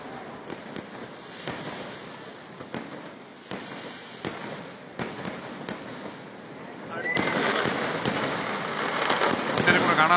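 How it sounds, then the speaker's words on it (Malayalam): Sample fireworks for Thrissur Pooram, fired by the Paramekkavu Devaswom, go off as a series of sharp, loud bangs at irregular intervals. They build into a denser, roaring barrage near the end, with a background rumble of crowd and talk. "പാറമേക്കാവ് ദേവസ്വത്തിൻ്റെ സാമ്പിൾ വെടിക്കെട്ടാണ് ഇപ്പോൾ കണ്ടുകൊണ്ടിരിക്കുന്നത്."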